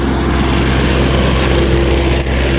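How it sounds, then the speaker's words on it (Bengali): A wood chipper machine grinds up a cut tree on a New York City street, giving a loud, unbroken engine drone with a steady hum and no clear pauses, and no speech over it. "গাছটা কেটে ওরা এই মেশিনে পুরো এই গাছটাকে পুরো গুঁড়ো গুঁড়ো করে নেবে।"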